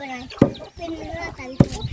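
Chickens clucking close by in a farmyard, with two loud, sharp squawks standing out amid ongoing clucks while people talk over them.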